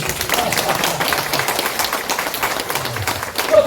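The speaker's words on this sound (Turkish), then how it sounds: "Onu alkışlayın." An audience applauds at a poetry and speech event, a loud, steady wash of many hands clapping that continues throughout, with scattered louder claps near the end.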